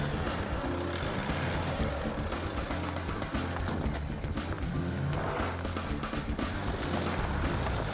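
A 4x4 off-roader with all three differentials locked crawls over an obstacle, its engine droning steadily and loudly under a rough rumble throughout.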